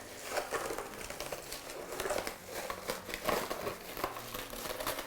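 A plastic bag being peeled away from a large bowl crinkles and rustles continuously, with irregular crisp snaps and crackles throughout, close and fairly quiet.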